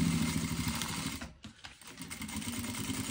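A sewing machine stitches through crystal-clear plastic for a double pencil case, its rapid needle chatter running steadily and close, with a brief slowdown near the middle before resuming.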